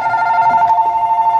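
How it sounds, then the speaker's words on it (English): A telephone rings indoors at a home birthday gathering, giving a loud, steady electronic tone with a fast warbling pulse that lasts throughout, with no talk over it. "You want to get the phone?"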